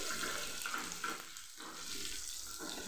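Chopped onion sizzles in a pan for dal tadka, a soft continuous frying hiss with a few faint stirring scrapes, close but fairly quiet and without speech.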